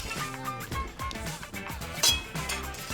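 A knife punches down through the crisp, caramelized Parmesan crust of a grilled cheese sandwich with pulled pork, giving close crackling crunches and a sharper clink near the end against a plate.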